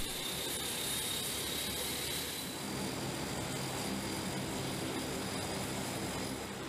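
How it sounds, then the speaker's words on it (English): Four Rolls-Royce AE2100 turboprop engines on an MC-130 special operations aircraft produce a steady, loud, broadband roar with a faint high whine, holding constant and uninterrupted with no talk. "It's powered by four Rolls-Royce AE2100 turboprop engines"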